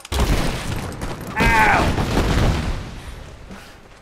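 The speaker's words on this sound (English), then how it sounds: "Standing way too close to the explosion." An explosion in the Rise of the Tomb Raider video game goes off close by as a loud, low boom with a burst of debris noise, and a voice cries out in pain over it.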